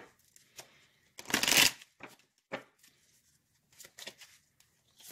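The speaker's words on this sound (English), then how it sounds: "I'm going to do a hard shuffle." Tarot cards hard-shuffled by hand during a weekly reading, giving a few short riffling bursts with one loud flurry in the middle and quieter shuffles later.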